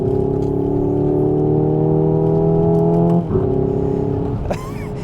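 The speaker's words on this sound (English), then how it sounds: "And you get these little blowbacks on the exhaust" A Hyundai Ioniq 5N electric hot hatch accelerates hard, its synthesized engine note climbing steadily and loudly, broken near the end by a brief crackle of exhaust blowbacks before the tone drops away.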